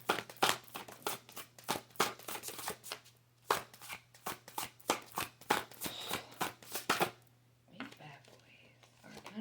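Rapid riffling and snapping of a deck of cards being shuffled, repeated bursts close up, followed by quieter handling near the end.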